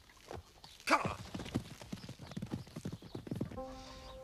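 Horse hooves trot in a steady clip-clop rhythm in a period countryside setting, close and clear, with a short whinny near the start.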